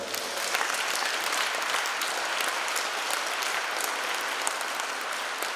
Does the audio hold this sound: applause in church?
yes